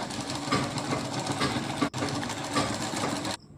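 An electric sewing machine stitches palazzo pants with a steady, fast mechanical whir that runs close and loud, with only a momentary break near the middle before it stops.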